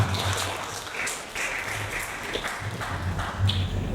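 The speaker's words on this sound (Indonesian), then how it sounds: "Tepuk tangan untuk komite kita" Steady applause from a crowd, a continuous wash of clapping at moderate loudness lasting throughout.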